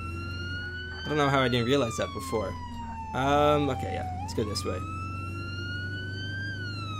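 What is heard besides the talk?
ambulance siren in Flashing Lights video game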